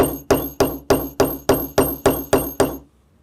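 A hammer strikes a doming tool nine times in a steady rhythm, setting a brass rivet and doming its head over, with sharp metallic hits that ring briefly and then fall silent.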